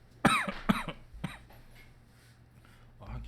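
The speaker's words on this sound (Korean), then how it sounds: "수업만 하면은 기침이 나와요" A lecturer coughs several times in sharp bursts during a biology class, close and loud, followed by a throat-clearing sound.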